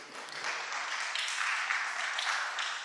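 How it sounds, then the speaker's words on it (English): Broadband clapping from an audience at a conference panel session, steady and sustained for the full stretch with no speech over it. "Let's give them a round of applause"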